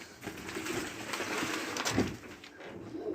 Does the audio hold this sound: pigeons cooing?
yes